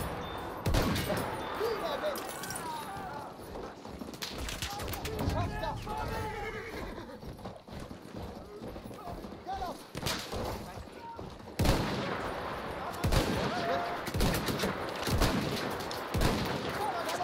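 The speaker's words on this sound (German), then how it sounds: "Feindliches Maschinengewehr!" Enemy machine-gun fire crackles in bursts through a cavalry battle in a war video game, mixed with horse whinnies and hoofbeats while soldiers' voices shout over the din.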